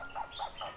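Birds perched in a tree by a banana garden give a few faint, repeated chirps over quiet outdoor background.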